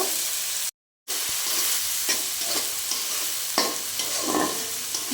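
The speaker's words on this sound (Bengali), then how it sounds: "তেলের উপরে আমি ফোড়ন দিয়ে দিয়েছি কাঁচা লঙ্কা আর একটু রসুন কুচিটাও দিয়ে দিলাম।" Green chilies and chopped garlic fry in hot oil for a pond crab curry, a loud even sizzle with spatula scrapes, broken once by a short moment of silence.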